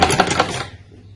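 A sewing machine stitches fabric in a quick run of rapid, close mechanical ticks that stops abruptly after under a second.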